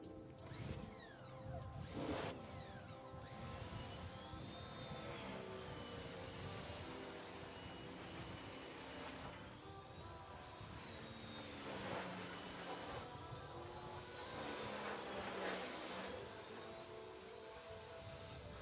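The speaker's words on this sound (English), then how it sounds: "you can hear that pump prime in here on this Sunjo 17" A Sunjo 17 2200 pressure washer pump primes with a steady, loud mechanical whir and hiss that runs without a break, with a few faint wavering tones drifting over it.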